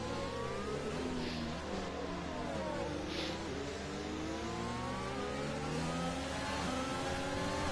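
Formula racing car engines in a Chinese Grand Prix video game, a continuous loud whine with rising and falling revs as gears shift, overlapping engine tones sweeping up and down.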